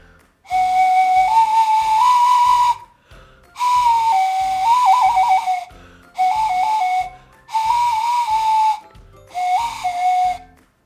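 A homemade carrot whistle is blown in five separate breathy toots, each a steady shrill tone with slight pitch shifts, separated by short pauses.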